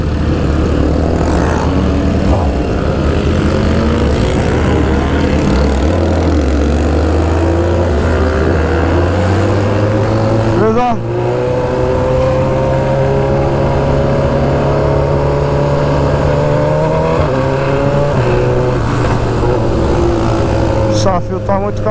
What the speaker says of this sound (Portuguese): Nossa, tem muita moto vindo lá, rapaziada.